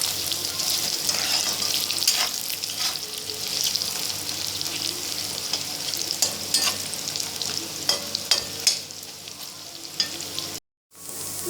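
Soya chunks frying in oil in a pan, stirred until golden, with a bright continuous sizzle and frequent scraping stir strokes that drop out briefly near the end.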